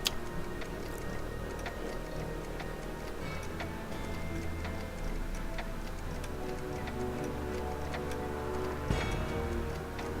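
Steady clock ticking in the Back to the Future video game, a regular tick-tock rhythm running throughout at moderate level over a low background hum, with no talk.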